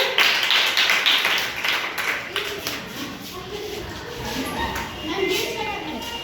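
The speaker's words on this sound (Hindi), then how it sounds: "चलिए ताली बजाइए" Children in a classroom quiz clap together in an uneven burst that tapers off, with a voice talking over it.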